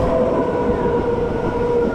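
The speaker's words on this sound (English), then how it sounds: "there goes the train" A train rolls past at Claisebrook on the way into Perth City, a steady, loud, broadband rumble of wheels and carriages that holds evenly throughout with no horn.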